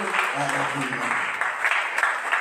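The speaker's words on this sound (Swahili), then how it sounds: "Sipigie Yesu makofi mazuri" A church congregation clapping for Jesus during a service, dense brief applause running under a preacher's voice.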